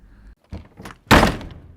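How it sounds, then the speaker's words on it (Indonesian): A door pushed open with someone's back lands as a single heavy thunk, close and loud, after a couple of softer shuffling knocks, with no talking. "Seperti biasa, Rio membuka pintu dengan dorongan punggung sambil mengucap salam."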